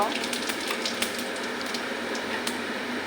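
Whole cumin seeds crackle in hot oil alongside dry red chilli and nigella seeds, a close, steady sizzle with small pops throughout, someone speaking softly over it.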